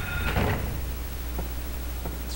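A door in the survival horror game Silent Hill, set in an elementary school, gives a brief rattling creak as it is tried, followed by two faint clicks against a steady low ambient hum.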